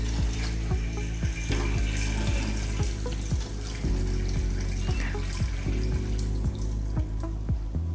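Water runs and splashes steadily in a sink while agushie (melon seeds) are rinsed and handled, with regular soft clicks and clunks underneath.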